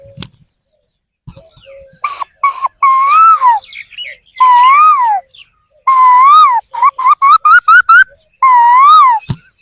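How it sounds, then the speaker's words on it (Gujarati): Loud, close koel calls, rising whistled notes repeated in bursts that quicken into a rapid series near the end, with no other sounds. "સૌપ્રથમ તો કોયલનો અવાજ, આપણે જે કોયલના અવાજથી શરૂઆત કરીએ."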